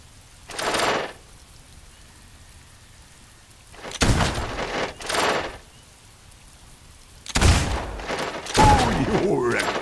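Gunshots at a shooting gallery in the Fable II video game: several sharp, loud single cracks spaced a second or more apart, with the last two coming in quick succession.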